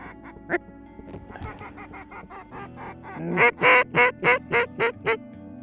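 Ducks quacking during a late-season freeze-up duck hunt in the Dakotas, starting with scattered calls that build into a loud, rhythmic run of about seven strong quacks close by, with no voices.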